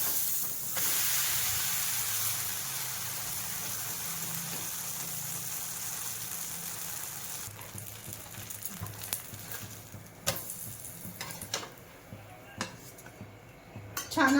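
Butter sponge dosa sizzling steadily on a hot pan, a soft continuous hiss that gives way to scraping and clinks of a spatula as it is flipped near the end.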